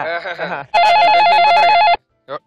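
A telephone rings once with a loud, close electronic warble for about a second in a comedy skit, right after someone speaks, followed by a brief word.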